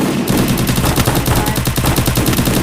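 Rapid automatic gunfire rattles in a Free Fire battle-royale match, a loud continuous burst of closely spaced shots that fills the whole moment.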